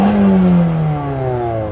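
A Honda Civic engine revs loud and close, its pitch swelling then sliding downward as the revs fall away over a steady exhaust drone.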